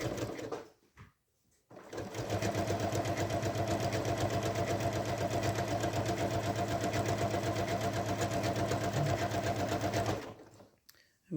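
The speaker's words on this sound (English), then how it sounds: "I have my machine set on a serpentine stitch, a wavy stitch like that, and it's at a 3 width and a 3 length" A sewing machine quilts a wavy serpentine stitch along a crease in a fabric zipper bag, running steadily and loudly for about eight seconds after a brief start, then stopping.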